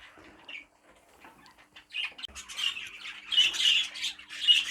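Two pet birds squawk in a cage, harsh calls growing louder and more frequent toward the end, with some wing flapping mixed in, close to the microphone.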